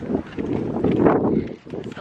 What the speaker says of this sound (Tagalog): Pero mahangin. Sobrang hangin.